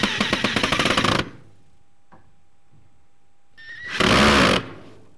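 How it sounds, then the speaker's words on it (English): A power drill drives into wood while a storage shelf is assembled, two loud rattling bursts close by, the first about a second long and the second shorter, with quiet between them. "Are you guys seeing my horrible drilling skills?"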